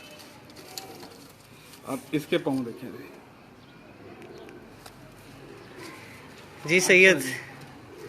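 Pigeons coo softly at a pigeon club in Gujranwala, a low murmur in the background while someone talks over them in two short bursts.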